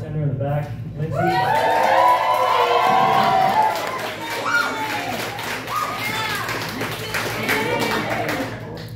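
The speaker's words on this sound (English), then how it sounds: "Please give a round of applause to the bartender in the back, Lindsay." Guests at a brewery wedding celebration clap and cheer for the bartender, with loud shouts and whoops rising over steady applause and people talking throughout.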